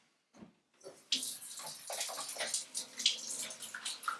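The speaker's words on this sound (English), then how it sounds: "I'm going to go ahead and wash my hands" Running tap water splashes over hands being washed at a kitchen sink during pork chop preparation, a steady close rush with brief handling splashes, preceded by a couple of soft knocks.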